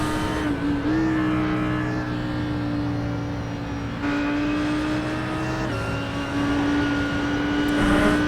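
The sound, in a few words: race car driving in iRacing video game, cockpit view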